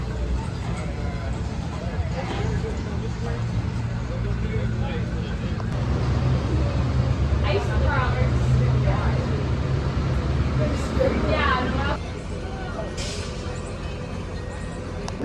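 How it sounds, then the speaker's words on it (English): A concrete truck idles at a roller coaster construction site, giving a steady, low engine rumble in the background while a person talks over it. "it sounds like there is a concrete truck here"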